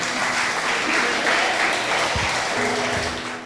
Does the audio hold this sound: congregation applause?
yes